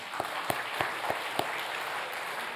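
A church congregation claps to honour an elderly elder, a soft background patter of applause with a few sharper, evenly spaced individual claps standing out near the start.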